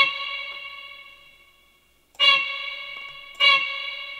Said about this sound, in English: Put a bunch of reverb on it,